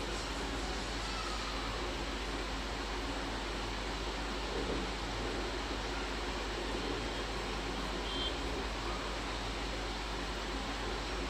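Vada pav fritters frying in hot oil give a steady, loud, dense hiss that holds unbroken from start to finish with no talk over it.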